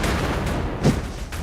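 Gunshot bang from a gun fired at poachers in Georgian-era Britain, one sharp boom midway through over a rumbling, noisy background.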